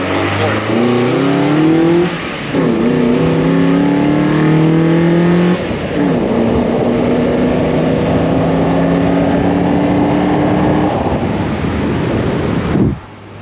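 A Nissan Pathfinder 4x4 with a swapped KA24 engine revs hard and climbs through the gears. The close, loud engine note rises, drops sharply at each shift, then rises again, with wind buffeting the microphone.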